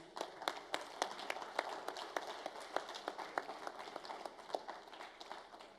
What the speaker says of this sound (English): Once again, please give them a big round of applause.